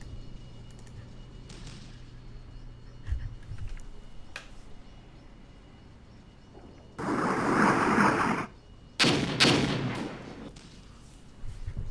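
Armored Brigade vehicles firing weapons in a tank battle: a few sharp shots, then two loud, sustained bursts of rumbling gunfire and blasts dominate the second half.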